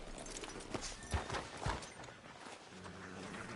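In Red Dead Redemption 2, horse hooves clip-clop at a walk on a town street outside a sheriff's office, a few soft uneven thuds over quiet ambient background.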